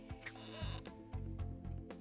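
Goat bleating in the Rayman video game, a couple of short wavering bleats over steady game music and effects, fairly prominent with no talk.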